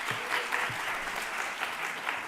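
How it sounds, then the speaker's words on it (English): An audience at an English-teaching conference claps steadily and warmly throughout, a dense patter of many hands with no voices standing out. "Please, a round of applause."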